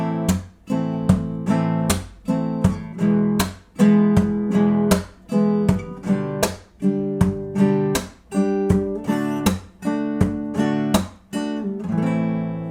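Acoustic guitar played percussively: steady rhythmic strummed chords on open strings with sharp slaps between them, about two hits per second, close and loud with no voices.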